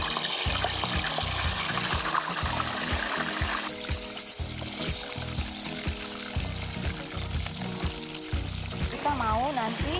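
Fish fries in about 300 ml of hot oil in a pan over moderate heat, making a dense, continuous crackling sizzle that stays close and loud throughout.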